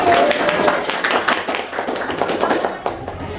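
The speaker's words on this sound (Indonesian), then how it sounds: "tepuk tangan untuk kelompok 1" Classroom audience clapping for a student presentation group, a patter of hand claps with some voices mixed in, moderately close and steady.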